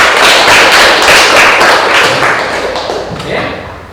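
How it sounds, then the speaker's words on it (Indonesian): Students in a classroom clap together at the end of a lesson, loud and close at first, then thinning and fading over a few seconds with some scattered slaps. "tepuk tangan untuk kita semua"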